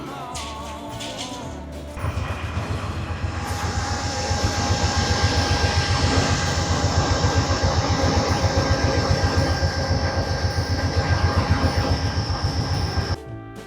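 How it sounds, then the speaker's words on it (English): Amtrak Southwest Chief passenger train in Colorado, hauled by two GE Genesis P42D diesel locomotives, rumbling loud and close with steady rhythmic clickety-clack, a sustained tonal whine over the wheels and a brief rise in intensity near the start. "we're being pulled by Amtrak engine 169 and 193. They're both part of the iconic GE Genesis P42D fleet"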